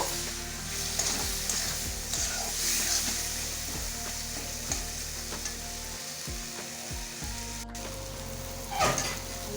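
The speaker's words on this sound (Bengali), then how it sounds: "মশলাটা এখন একটু কষিয়ে নেব" Spice paste for a mutton curry with potatoes sizzles and crackles in a hot pan as it is fried, with repeated scraping stirs of a spoon against the pot, close and steady.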